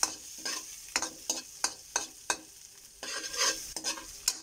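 Ginger sautés in a pan for chicken tinola, a bright continuous sizzle punctuated by regular crisp scraping strokes of a spatula, close and moderately loud with no voices.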